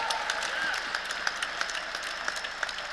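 Audience applause at a debate between Jordan Peterson and an opponent on astrology and religion, a short burst of steady, dense clapping from a crowd throughout.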